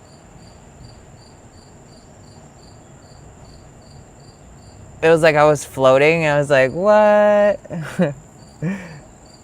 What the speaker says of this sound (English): the crickets are nice.